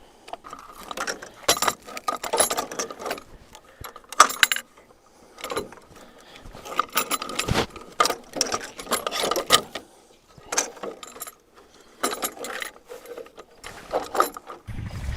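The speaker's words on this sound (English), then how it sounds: "I want to get it ready to be engaged now so I can tighten up the poly wire" A ratchet reel clicks and rattles in bursts as it is wound to tighten electric fence poly wire for dividing cattle pasture, with mechanical ratcheting close up and brief pauses between turns.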